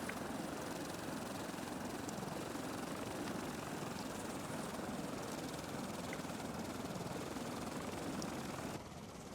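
A gyrocopter engine drones steadily in flight in the survival game Stranded Deep, a continuous whirring rotor-and-engine hum holding at an even level throughout, with no voices present.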